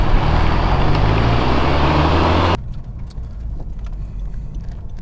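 Honda Civic Type R pulling onto a motorway, a loud steady engine and road roar that drops abruptly to a quieter cabin drone halfway through, with no talking.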